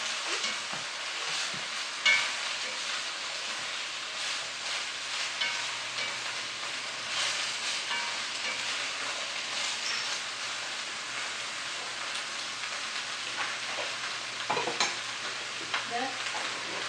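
Borscht ingredients, including beef, sautéing in a pan: a continuous soft sizzle with scattered spatula scrapes and clinks against the pan, close and quiet throughout, with no talk.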